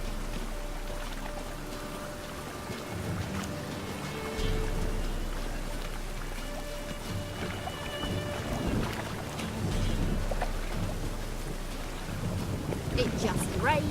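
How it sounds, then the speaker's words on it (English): Steady rain falling in The Witcher 3 video game, a continuous, moderately loud hiss with faint low rumbles and scattered background sounds mixed in. "It just rains and rains."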